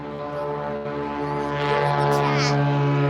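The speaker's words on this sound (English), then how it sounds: "There goes another plane." A propeller airplane flies overhead near a boat, a steady droning hum with strong low tones that swells gradually louder over a few seconds.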